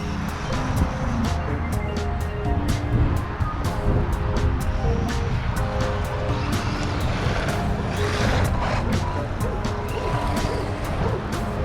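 A WLToys 144001 RC car driving on a road, a steady loud whirring motor with broadband rushing noise and scattered sharp clicks and ticks throughout, continuous for the whole stretch.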